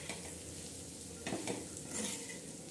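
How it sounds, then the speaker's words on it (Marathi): Peanuts dry-roasting on a hot tava with a pinch of salt, a soft continuous sizzle broken by scraping stirs of a spatula against the metal, close and quiet with no talk. "आता खरपूस अशी भाजून घ्यायची"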